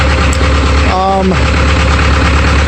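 An old 1961 International Harvester B275 tractor engine idles loudly and steadily, a constant rumbling chug, with a voice briefly speaking over it.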